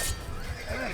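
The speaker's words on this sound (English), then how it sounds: "Horses." A horse in the video game Assassin's Creed gives a short, close whinny with a quick rising-falling pitch, mixed with faint hoof clops.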